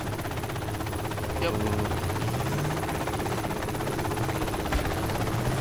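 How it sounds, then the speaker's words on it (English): A helicopter in the video game Project Reality flies close by, its rotor buzz running continuously under a short spoken reply and background game noise. "Is that heli friendly?"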